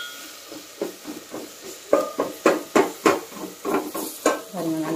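Onions and spices sautéing in a pan for village-style mutton kuzhambu, a quiet sizzle punctuated by a series of irregular stirring scrapes and clinks of a spoon against the pan.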